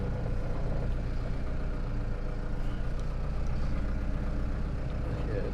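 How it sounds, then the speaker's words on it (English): A turbo diesel Roxor engine runs steadily just after a cold crank and start, a continuous low idling rumble held at close range with no speech over it. "it cranked through and started, so that's great"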